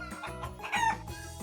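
Chicken clucking from a farm hen, with a rooster's crow rising loud in the middle before the clucks continue, close and clear with no talking.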